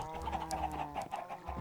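Chickens clucking in a Minecraft chicken pen, a steady run of short game-sound clucks and squawks heard up close with no talking over them.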